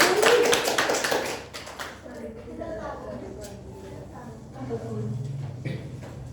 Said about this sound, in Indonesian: Nah, kasih aplaus.